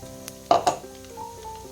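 Whole spices hit hot mustard oil in a wok for a mango pickle, giving a quick burst of sizzle and a couple of sharp metallic clinks, then a softer crackle fading under a faint hum.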